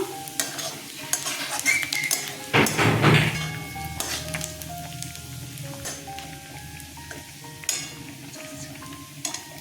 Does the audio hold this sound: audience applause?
no